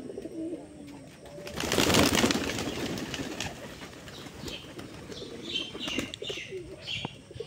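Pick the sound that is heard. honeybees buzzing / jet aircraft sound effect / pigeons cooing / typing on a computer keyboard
pigeons cooing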